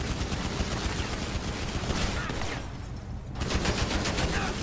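Dense, continuous video game gunfire from a drive-by shooting in GTA V, fired from a black Range Rover, rattles in rapid automatic bursts with a brief dip before resuming loudly.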